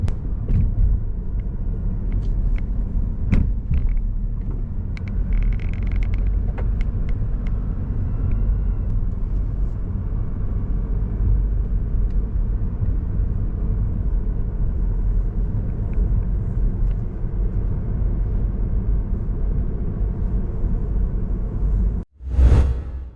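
Car driving through downtown Sarasota, Florida, around the Bayfront area: a steady low road rumble and tire noise from inside the vehicle, with a loud whoosh near the end.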